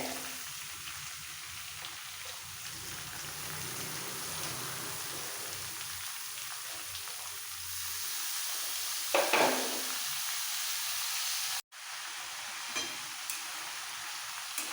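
Grated radish and potatoes fry in a pan with a continuous soft sizzle. A few louder stirring scrapes sound near the middle, and a brief cut in the sound comes later.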